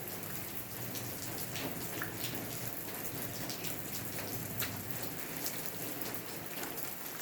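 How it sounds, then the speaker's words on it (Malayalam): Steady patter of water from an artificial-rain sprinkler system, spray drops hitting plant leaves and surfaces, continuous and moderately soft with no voices. "നല്ല ചൂടുള്ള കാലത്ത് ഇതുപോലെ നമുക്ക് കൃത്രിമ മഴ വൈകിപ്പിക്കാൻ പറ്റും"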